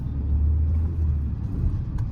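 The 1.2 liter five-speed manual engine of a 2023 Kia Sonet HTK+ drones while driving, a steady low rumble from inside the cabin with no one speaking.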